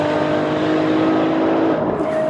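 A Ferrari LaFerrari V12 hybrid with 950 horsepower combined roars loud and close in a sustained engine drone, its pitch shifting slightly near the end.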